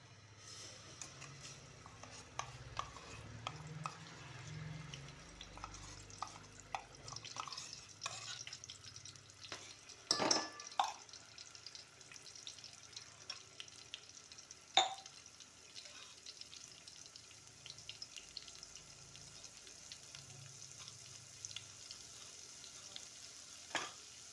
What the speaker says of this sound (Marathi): ह्याला फक्त तेल सुटेपर्यंत छान भाजून घ्यायचा